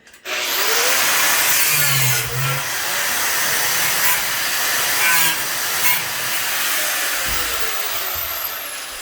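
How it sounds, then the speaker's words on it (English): An angle grinder runs continuously against rusted screws in a school bus wheelchair track, a loud, steady broadband grinding whine that holds for the whole stretch with slight dips in pitch and load. "she is working the angle grinder for me"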